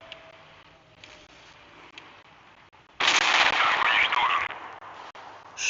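Tank cannon fire in the online tank battle game Tanks Blitz: a sudden loud, dense blast and crash of gunfire that starts midway and stays strong for about two seconds, then drops off, with a short burst again right at the end.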